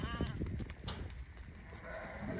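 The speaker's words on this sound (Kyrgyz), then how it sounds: "Мына койлор." Sheep in a livestock yard where pregnant ewes, ewes with lambs and young rams are kept for sale; a bleat or two rises from steady, busy pen noise and milling animals.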